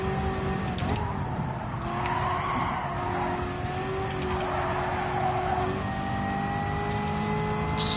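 A race car in Gran Turismo Sport held at full throttle, its engine a loud, steady sustained drone with rising pitch and some tire scrub running through, no voices.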